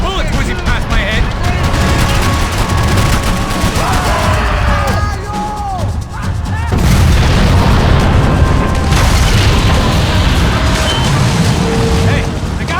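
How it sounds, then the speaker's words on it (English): Gunfire and booming explosions from the video game Max Payne 3 fill the scene continuously at loud volume, with shots, bursts and blasts layered densely under voices talking throughout. "I can't concentrate with bullets whizzing past my head!"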